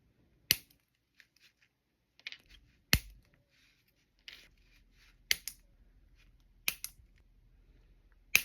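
Wire being cut for a wire-wrapped prong setting around a deep-cut faceted gemstone: several sharp, isolated snips spaced a second or so apart, close and crisp against a quiet background.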